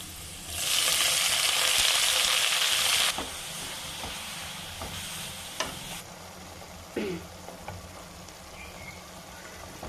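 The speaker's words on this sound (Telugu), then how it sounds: "చూడండి ఫ్రెండ్స్, ఇలా ఫ్రై చేసుకోవాలి." Spinach hits hot oil with fried garlic in a pan, giving a loud burst of sizzling and steam that settles into steady frying with occasional stirring scrapes and clinks; no one speaks.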